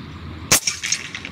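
A single sharp, muffled crack of a suppressed air rifle shot, close by, with a short metallic ring trailing after.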